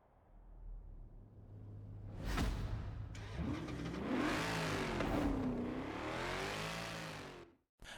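A Honda car engine in Forza Horizon 4, fitted with a supercharger, revs hard through rising and falling sweeps after a sharp whoosh, staying loud and close for several seconds before cutting off abruptly.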